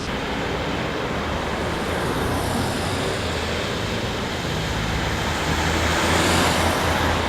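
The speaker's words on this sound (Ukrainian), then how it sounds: "Водій виїжджають на зустрічну смугу, аби оминути розкопану ділянку дороги" Cars pass a dug-up road section in steady, loud traffic roar with broad road noise and a swelling rush toward the end, no voices.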